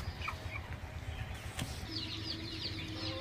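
Broiler chickens on a farm of about 800 birds cluck softly and steadily in the background, with a brief flutter of wings and no talking.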